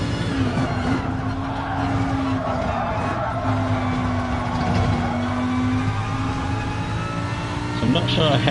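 Race car engines drone through a Gran Turismo practice lobby with tires squealing and revs rising and falling over several seconds, while someone talks steadily over the sound.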